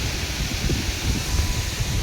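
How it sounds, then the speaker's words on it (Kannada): Strong wind blows outdoors, buffeting the microphone with a continuous roaring rumble and gusty low-end surges throughout, with no talking. "ಇಲ್ಲಿ ನೋಡ್ರಿ ಜೋರಾಗಿ ಗಾಳಿ ಬೀಸ್ತೈತೆ."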